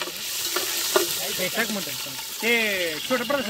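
Steady sizzling of marinated mutton frying in a hot pan with fat, a broad hiss running throughout while a person talks over it.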